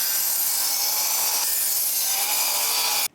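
A saw makes an angled cut through wood for DIY car ramps, a loud steady hissing, rasping buzz held for about three seconds before stopping abruptly, close with no talking.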